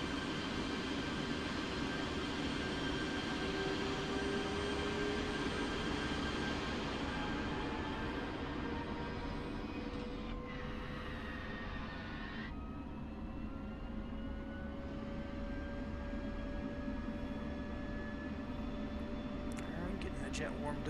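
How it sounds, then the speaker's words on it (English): An F-16C Viper jet engine starts up in the DCS World flight game, a steady, loud turbine roar with whining tones that slowly climb in pitch as it spools up over about twenty seconds. "Just have to forgive me while I start my jet here."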